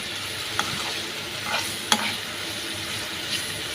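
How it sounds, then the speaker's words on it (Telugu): Green beans fry as a tempering in a pan, giving a constant crackling sizzle with a few sharp pops and spoon scrapes, close and unaccompanied by speech. "ఇక్కడైతే నేను బీన్స్కాయలు తాలింపు అయితే వేస్తున్నానండి"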